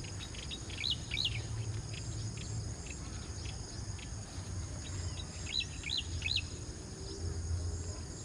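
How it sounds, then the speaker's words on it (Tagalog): Several birds chirp in short high bursts over a steady chorus of insects on a farm, with a low rumble underneath; the calls come in two brief clusters. "Dami pong ibon dun, no? Nadidinig niyo po ba yan?"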